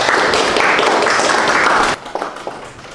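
Classroom applause for a student bursts out as dense, close clapping for about two seconds, then breaks off into a few scattered claps and low room noise.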